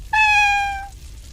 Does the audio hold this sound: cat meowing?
yes